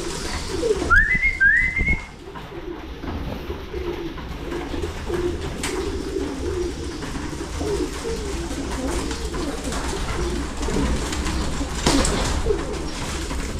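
Pigeons at a loft trapdoor give a pair of rising whistle-like calls near the start, over a steady rustling background of birds and outdoor noise that continues throughout.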